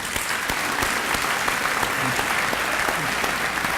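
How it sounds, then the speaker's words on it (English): School Hall of Fame assembly audience clapping loudly and continuously for the varsity soccer team, a dense, even wash of applause throughout. "Can we give a big round of applause for these guys?"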